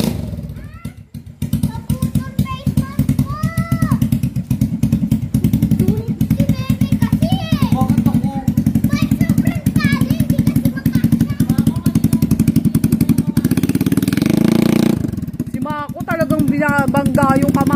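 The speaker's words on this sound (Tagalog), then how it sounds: "Ay, anong ingay ng motor?" A motorcycle engine idles loudly nearby in a Philippine neighborhood, a continuous throbbing rumble throughout. Children and adults talk over it.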